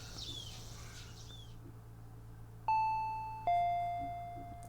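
A two-tone ding-dong doorbell chime rings out clearly at the front door in the Higurashi When They Cry visual novel game, its two bright notes sounding over a quiet afternoon ambience with faint insect and bird noise.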